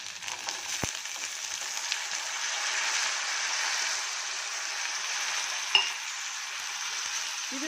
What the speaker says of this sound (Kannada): ಇಷ್ಟು ಫ್ರೈ ಆದಮೇಲೆ ಬಟಾಣಿ ಮತ್ತು ಅಮೇರಿಕನ್ ಕಾರ್ನ್ ಹಾಕ್ತಾಯಿದ್ದೀನಿ.